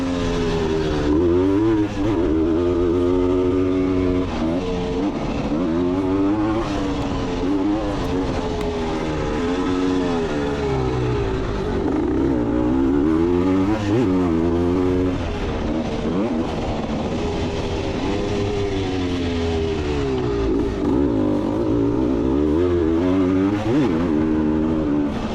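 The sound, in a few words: vintage motorcycles riding on a track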